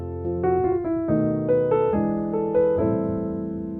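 A piano plays a 7-3-6 chord progression, several sustained chord voicings changing in steady succession with a melody moving on top, clear and unaccompanied.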